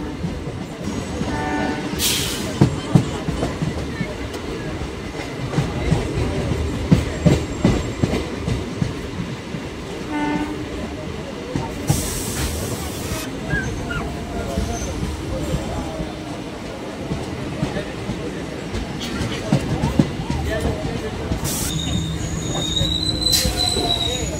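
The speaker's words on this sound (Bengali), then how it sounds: "এখন আমাদের ট্রেন ঢুকলো বেথুয়াডহরি স্টেশন" A local MEMU train pulls into Bethuadahari station on platform 1, wheels squealing sharply in several bursts over a continuous rumble and rattle, with a brief horn and a person speaking at times.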